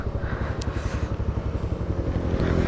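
A motorcycle rides at speed along a road in Azad Kashmir, its engine a steady, close, rough drone with rhythmic pulsing throughout, with no talk over it.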